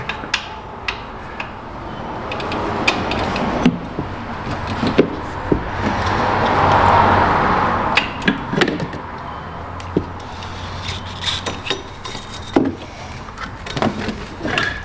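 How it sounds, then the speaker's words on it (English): Ratchet on the belt tensioner of a '98 GMC Sonoma during A/C compressor work, with sharp metallic ticks and clunks scattered over quiet garage background, close and intermittent, no talk. "we're gonna lock our ratchet. Try to get it down here in the tensioner."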